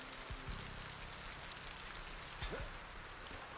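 Steady rain falls in the video game Project Zomboid, a constant, even hiss of drops on surfaces that stays fairly quiet throughout, with a few faint tonal blips from the game.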